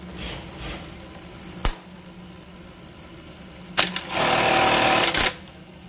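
Sewing machine in a tailoring shop: a quiet idling background, a sharp knock, then a short loud burst of stitching that lasts about a second before stopping, with no voices.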